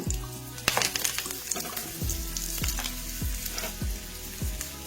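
Sweet potato cutlets fry in a pan of hot oil, giving a steady close sizzle with a few spatters and light stirring clinks, several crackling bursts recurring as pieces settle, with no talking.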